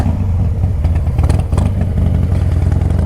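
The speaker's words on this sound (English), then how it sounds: "got the bike fired up" A motorcycle engine running at the start of a solo ride to Sturgis, a loud close steady low rumble with slight rev fluctuations throughout and no talking.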